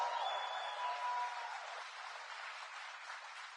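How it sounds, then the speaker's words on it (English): An audience gives the President a round of applause at an event in Poughkeepsie, New York. The clapping is steady, faint and distant, fading slightly toward the end, with no clear talk over it. "we should give another round of applause for the President to come out here to Poughkeepsie"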